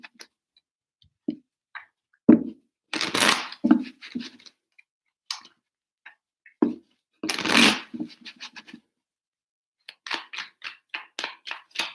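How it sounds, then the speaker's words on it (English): Tarot cards are shuffled in several bursts: two longer riffling runs, then a quick series of crisp taps and flicks near the end, close and alone with no talking. "Three shuffles for Sagittarius and their person"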